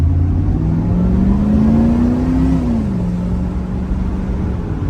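A 1991 Pontiac Firebird Formula with T-tops revs while driving, its engine note rising smoothly, peaking, then dropping back to a steady cruise, loud and close with no talking.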